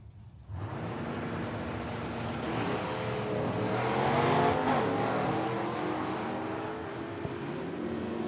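A drag racing wagon at Tucson Dragway launches and roars down the quarter mile, its engine note rising through the gears to a loud peak midway and then fading off into the distance.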